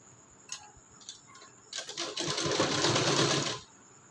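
Sewing machine stitching a katori blouse seam: a couple of light taps, then a short fast burst of rattling stitches, close and clear.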